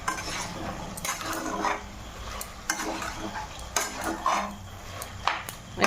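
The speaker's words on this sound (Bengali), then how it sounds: "মাছের মাথাটা এবারে কুমড়োর সঙ্গে ভালো করে মিক্স করে" Fish head is stirred together with pumpkin in a pan: a quiet background sizzle is punctuated by repeated scraping and clinking strokes of a utensil against the pan, with no talking.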